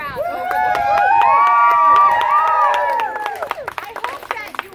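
A crowd at a band appearance cheers and whoops, with high excited voices and scattered claps, loud and close, then fading into sparse clapping.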